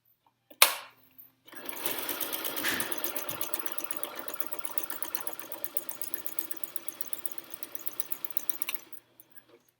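Domestic sewing machine stitching along the side of a fabric pee pad, a fast rhythmic needle chatter that starts after a click, runs steadily for several seconds close up, then stops.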